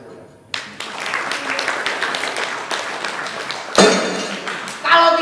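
An audience at a wayang arts gathering in an Islamic boarding school breaks into applause, a dense burst of clapping lasting about three seconds before a voice speaks over the fading claps.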